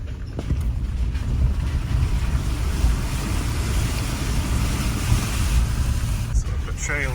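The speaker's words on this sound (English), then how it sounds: "Looks like we're crossing a big puddle or river." A new Land Rover Defender fords a stream on Colorado's Alpine Loop trail, a loud continuous rumble of engine and rushing, churning water close to the microphone, with a brief clatter near the end.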